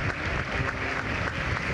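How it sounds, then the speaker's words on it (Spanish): Applause during a funeral ceremony held inside a pantheon, a continuous patter of many hands clapping at moderate distance, steady and dense throughout. "se escuchan los aplausos"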